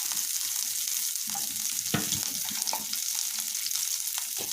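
Ridge gourd peel fries in a pan with a constant loud sizzle, with occasional stirring scrapes and pops.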